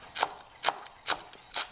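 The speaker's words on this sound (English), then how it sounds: "So now I'm just going to go ahead and slice these in how much ever you want" A knife slicing green onions for a plant-based omelet, four crisp cuts spaced evenly, each a short close tap on the board with a faint quiet gap between them.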